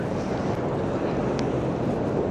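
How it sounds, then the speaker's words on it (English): Storm waves surge against a seafront road in Skegness, a loud, continuous roar of churning water and gusting wind buffeting the microphone throughout, with no talk. "you just got these spontaneous waves just crashing up here"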